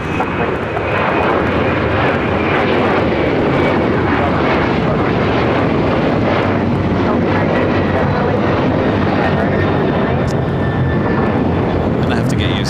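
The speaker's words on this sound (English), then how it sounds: "We'll head over as the Air New Zealand 777 next arrival." Air New Zealand Boeing 777 arriving at LAX after a flight from Auckland, a loud continuous broadband jet roar holding steady throughout, close and dominant.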